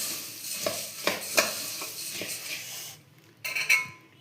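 Churumuri, a puffed rice snack, being mixed in a bowl with onion, carrot, tomato and spices: repeated scraping and clinking strokes of a spoon against the vessel, close up, pausing briefly before a final few louder clanks.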